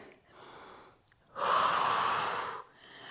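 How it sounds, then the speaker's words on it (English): Pilates workout breathing: a soft inhale followed by a long, loud, close exhale through the mouth, then quiet, with no speech. "Inhale and exhale."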